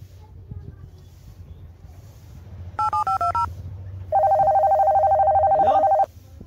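Telephone keypad tones beep in a quick run of separate presses, then a long steady ringing tone, in a comic skit over low background rumble.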